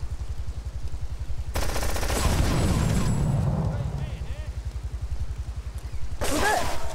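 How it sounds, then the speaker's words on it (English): Gunfire in Grand Theft Auto III: rapid, steady automatic shots rattle throughout, with someone talking loudly over them and a burst of louder impact noise near the middle. "who the hell is shooting me?"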